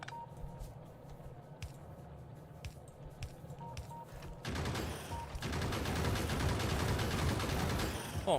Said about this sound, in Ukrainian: Фунгує турель